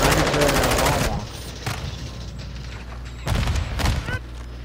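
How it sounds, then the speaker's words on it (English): Video game combat with a long burst of rapid machine-gun fire, then scattered shots and a pair of heavy blasts, loud and close, with quieter gaps between. "There's a lot of explosions"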